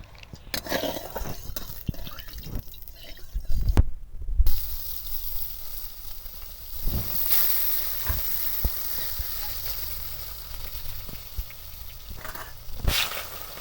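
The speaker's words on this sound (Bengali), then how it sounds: "আমি তেল দিয়ে দিলাম মাছগুলো ভেজে নেব" Tilapia fish fry in oil in a pan for a long stretch, sizzling and crackling, with scraping stirs and a few clacks of a utensil; no voices.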